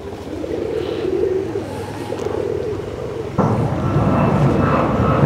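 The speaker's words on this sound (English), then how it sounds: "Look at all these fucking pigeons." Pigeons coo in a flock at a spot in Chiang Mai, Thailand, their low calls blending into a steady outdoor wash that turns louder and busier partway through.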